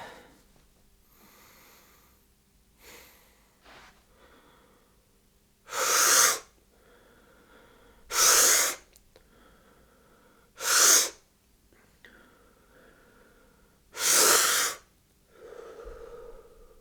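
Deep rhythmic breathwork breathing comes as four loud, forceful breaths spaced a few seconds apart, close to the microphone, with quieter breaths between them and no talk.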